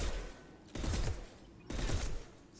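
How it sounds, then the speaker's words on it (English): Gunfire in the Mass Effect video game, two loud bursts of rapid shots close by, each lasting close to a second, separated by a short lull. "Stop shooting at me."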